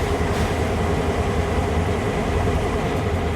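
A train in Train Sim World 4 hauls hopper wagons with a steady, dense rumble and rolling noise that continues throughout, with no one speaking.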